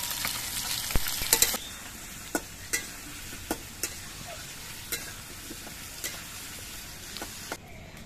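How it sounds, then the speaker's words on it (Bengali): Potatoes fry in oil with a little salt added: a quieter bed of sizzling punctuated by a dozen or so distinct sharp spits and pops spread across the clip. "আলুগুলো ভাজার সময় অল্প একটু নুন দিয়ে দিচ্ছি"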